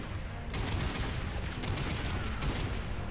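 Shotgun fire in the sci-fi video game Lost Planet 3 during a firefight with charging enemies, a dense, loud burst of repeated blasts and rattling gunfire filling nearly the whole stretch with no pauses.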